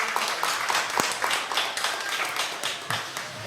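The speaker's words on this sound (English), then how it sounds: "Big round of applause, guys." An audience at an opening ceremony claps for a team, with dense, overlapping handclaps forming steady applause at moderate loudness for a few seconds.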